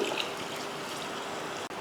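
Water is poured into a veg kurma in a pressure cooker, making a steady, close trickling stream that runs continuously for a couple of seconds with no talking.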